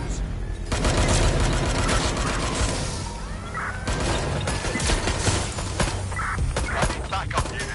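Rapid gunfire bursts from a Watch Dogs Legion firefight, loud and dense with repeated shots and clattering impacts over a busy background, with brief voices mixed in.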